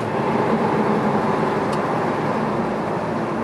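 A 1980 Chevrolet Camaro Z28 cruising along, its broadband road and engine noise steady and fairly loud from inside the cabin, with no talking.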